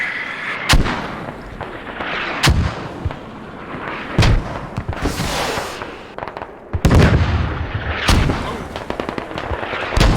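Heavy mortar rounds firing and exploding in a military shooter game match, several loud booms spaced a second or two apart with rumbling debris and scattered gunfire between them.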